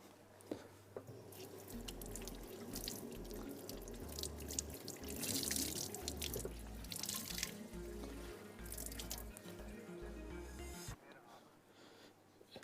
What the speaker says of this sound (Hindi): आपने कोई भी एक कपड़ा गीला करना है